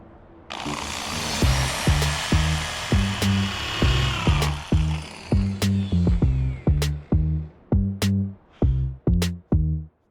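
Power drill boring holes in a roof while mounting solar panels, a loud high whine that stops and restarts in a long run of short bursts, close up with no talking.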